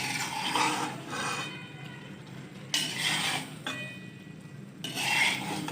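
Mutton karahi cooked with butter is stirred and scraped in a pan in three sweeping strokes over a steady, hissing cooking background.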